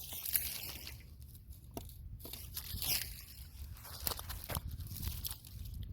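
Asparagus stems being cut about an inch above the soil in a garden bed, with several crisp snipping and tearing crunches at irregular intervals, close by over faint outdoor rustle.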